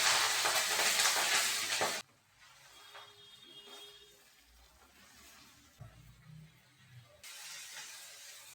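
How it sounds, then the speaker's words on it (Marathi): Fenugreek leaves go into hot oil with crushed garlic and are stirred: a loud, dense sizzle at first, then a quieter patch with occasional stirring knocks, then a returning burst of frying near the end. "आता त्यातच ही मेथी टाकून द्यायची. परतून घ्यायची."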